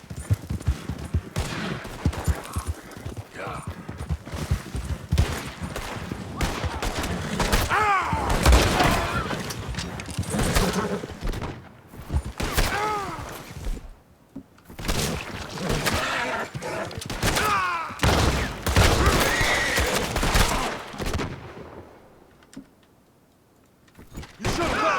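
Dense gunfight in the video game Red Dead Redemption 2: rapid, loud gunshots and ricochets in near-continuous bursts, with brief lulls and a quieter stretch near the end.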